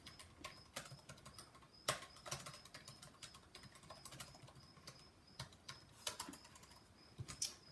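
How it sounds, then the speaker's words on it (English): Keys pressed on a worn keyboard of an old MacBook, irregular clicky taps close by, some louder strikes scattered through, continuing steadily without speech. "Also checking to see how worn out the keyboard is."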